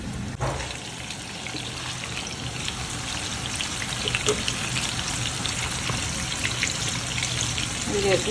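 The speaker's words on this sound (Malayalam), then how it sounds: "അത് നമുക്ക് ഇത്രയും ഫ്രൈ ചെയ്തെടുക്കാം." Masala-coated fish fries in a pan for fish biryani, giving a steady crackling sizzle throughout, with a person talking briefly over it.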